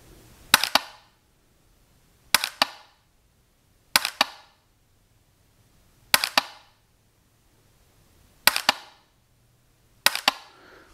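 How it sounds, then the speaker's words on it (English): Six sharp, snappy shots from a pistol during dry-fire practice with a Mantis BlackBeardX training system, each a bright crack with a quick double transient, spaced evenly about two seconds apart against near silence. "I'm just going to put a couple rounds down range"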